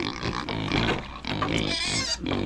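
A black pig grunts and oinks repeatedly in a farm setting, the calls loud and close, with dense overlapping squeals and snorts filling the whole moment.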